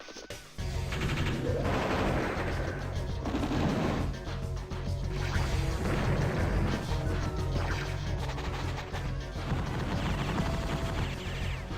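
Artillery fire in the Advance Wars: Dual Strike video game, dense crashing blasts and booming impacts layered over loud game music that runs continuously throughout.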